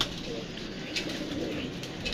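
A pigeon coos softly in a quiet room, low murmuring calls rising faintly over a hushed background, with slight shuffling nearby.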